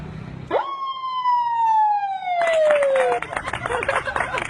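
A man vocally mimics an ambulance siren with one long descending wail, loud and near, before the sound breaks into noisy background commotion.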